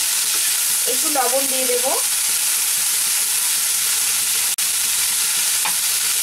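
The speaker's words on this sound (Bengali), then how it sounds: "হলুদ দিয়ে আমি গ্যাসের ফ্লেমটা মিডিয়ামে রেখে আমি ভেজে নেব ভালো করে" Cauliflower, peas, chopped green chilli and other vegetables fry in a pan over a medium gas flame, giving a constant loud sizzle with occasional stirring scrapes. A voice speaks briefly over it.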